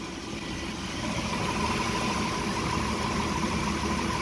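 A Chrysler 3.5 HO V6 idles steadily during coolant bleeding, its even mid-pitched hum and mechanical whir close and continuous, growing slightly louder after the first second.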